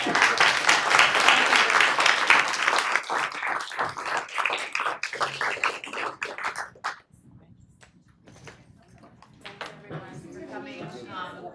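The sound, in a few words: audience applause at event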